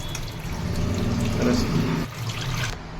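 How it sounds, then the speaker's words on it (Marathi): Running water splashes steadily over coriander leaves in a sink or bowl, a continuous wet rush close by with a faint voice underneath. "धुवून घेते स्वच्छ अशी पाण्याने"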